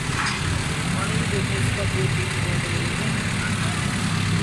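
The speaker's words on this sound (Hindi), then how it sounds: "ये माशाल्लाह गाड़ी स्टार्ट है।" A car engine runs at a steady idle after starting, a continuous low rumble with even loudness throughout and no talk over it.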